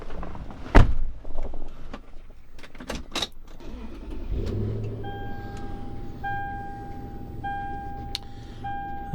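Someone climbs into a 2007 Toyota Sequoia Limited truck: a sharp door thump and rustling close by, then the cabin settles into a low hum with repeated electronic chimes.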